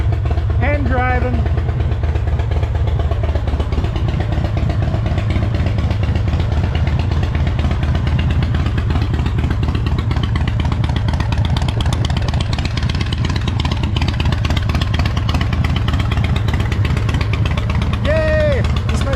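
A 2005 Harley Davidson Fatboy CVO with a freshly rebuilt motor and primary runs steadily, its loud, close, rumbling engine note holding throughout with a few chirps over it.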